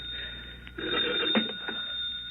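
A telephone rings with a steady electronic bell tone, heard indoors against faint room noise and a few soft knocks.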